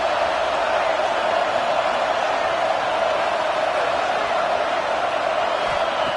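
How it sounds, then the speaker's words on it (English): A home crowd at an American football game cheers and roars in a steady, dense wash of noise throughout, with no pauses or breaks in the sound. "this home crowd is fired up and ready to make a difference today"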